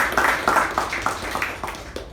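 A small meeting audience gives a short round of applause: steady, even clapping from a few people, moderately close, with no voices over it.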